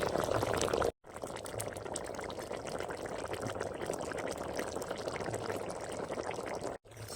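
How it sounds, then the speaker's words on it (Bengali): Curry broth for a puti fish dish with potato, eggplant and lentil dumplings bubbles and simmers steadily in a pan, a continuous wet churning with brief cuts, no voices. "তরকারি ঝোল ফুটে গেছে এখন মাছগুলো দিয়ে দেবো"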